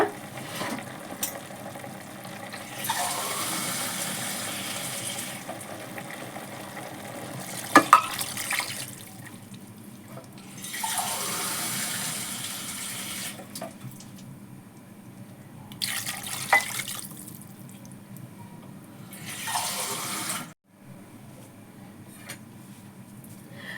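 Water poured from a glass into a cooker pot of marinated country chicken with salt and turmeric, in several separate splashing pours with pauses between, close and fairly loud, with no talking.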